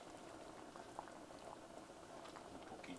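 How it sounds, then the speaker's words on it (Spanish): Shrimp patties simmer in a chili shrimp broth, a steady close bubbling and sputtering that holds evenly throughout with small pops on top and no voices. "vamos a dejarlas que hiervan"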